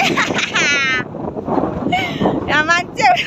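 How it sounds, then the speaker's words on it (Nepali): Strong cold wind buffets the microphone outdoors in Mustang, Nepal, as a rumbling gusty roar beneath people talking close by, rising and falling in bursts. "यहाँ मान्छे उडाउने हावा आउँछ यार"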